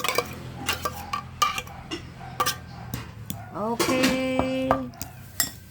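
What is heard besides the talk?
stirring Century Tuna in a bowl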